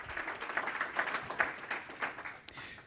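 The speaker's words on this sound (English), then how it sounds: "Let's give everybody a round of applause and thank them all for their work." An audience applauds at the 2017 Civic Innovation Summit in Long Beach, giving steady, moderately loud clapping from a crowd that lasts throughout without a break.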